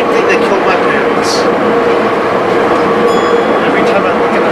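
A train rolls past on its tracks as a film sound effect, a loud and steady broadband rumble that holds at the same level for the whole stretch.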